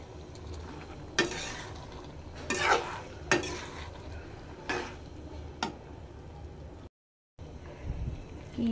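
Mixed meat curry cooking in a pan, stirred in a series of loud, distinct scrapes and clatters of a utensil against the metal over a low background sizzle, with a brief silent gap near the end.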